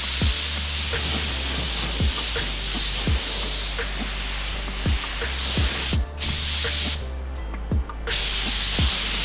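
An HVLP spray gun with a 1.7 fluid tip lays epoxy primer onto a Honda Civic EG body: loud, close, continuous hissing spray with faint ticking clicks, briefly cut off twice near the end.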